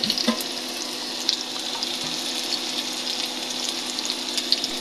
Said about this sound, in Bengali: এখন পেঁয়াজ মরিচ ভালো করে ভেজে নিতে হবে।